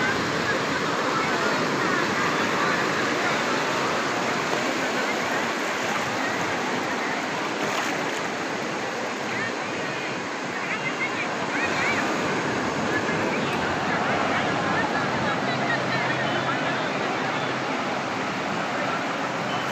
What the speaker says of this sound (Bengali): গভীর রাতে দেখুন সমুদ্রের ঢেউগুলো কত ভয়ঙ্কর